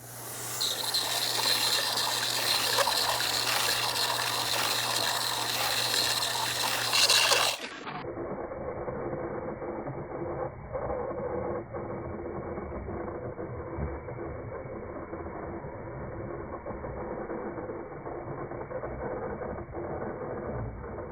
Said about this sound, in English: Here's the third step of polish, and we are using an 800 grit.